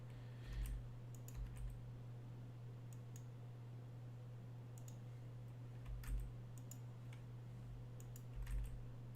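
Someone types on a computer keyboard, soft clicking keystrokes in scattered short bursts, faint under a steady electrical hum.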